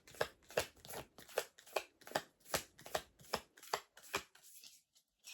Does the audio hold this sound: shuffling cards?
yes